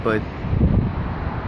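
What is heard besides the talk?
wind blowing into microphone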